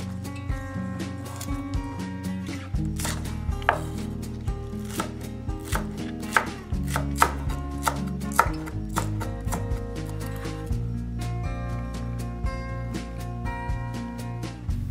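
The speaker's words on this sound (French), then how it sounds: "Je cisèle la ciboulette." A knife chops chives on a cutting board in a home kitchen with a quick series of sharp, close taps in irregular bursts, heard alone without talking.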